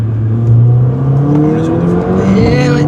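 A Mercedes 4Matic car engine pulls hard under acceleration, a loud, close drone whose pitch climbs steadily, with a brief rise and dip partway through and faint tire noise underneath.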